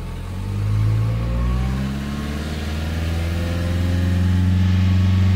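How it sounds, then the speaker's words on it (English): A Nissan Juke engine with a blocked diesel particulate filter revs up from idle to about 3,000 rpm, rising in pitch and holding at a steady higher speed, close and loud with no talking. "Bring the revs up."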